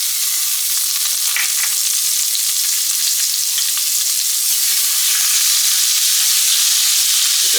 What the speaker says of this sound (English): I want you to come on in with 1/4 cup of your minced onion